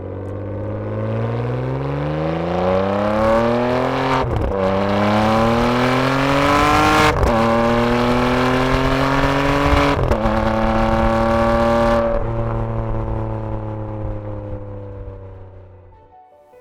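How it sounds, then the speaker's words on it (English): Ferrari 599 GTB V12 engine revving up hard through rising harmonics, with several sharp gear changes before the note settles and fades; loud and close, no talk. "a high-quality soundtrack provided by the V12 engine"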